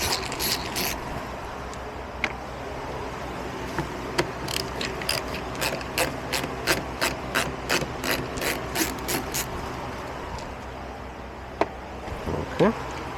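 A ratchet clicks in quick repeated bursts while backing out small screws from the electric door lock actuator of a 2013 Toyota Tundra, close and fairly loud, with brief pauses between runs.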